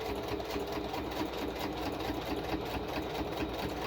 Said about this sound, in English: for my sewing machine.